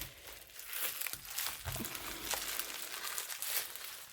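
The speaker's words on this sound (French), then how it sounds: "Alors, on va déballer par contre, il est bien emballé" Crinkly plastic packaging of a diamond painting kit being unwrapped, steady close rustling and crumpling throughout.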